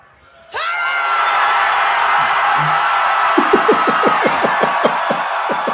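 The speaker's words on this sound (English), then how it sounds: "on 3 you would scream even louder?" At a Wacken metal festival concert, a huge crowd erupts into loud sustained screaming that holds steady, with rhythmic clapping or thumps joining near the end.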